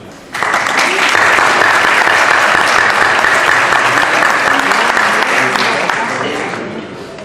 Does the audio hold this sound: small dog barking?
no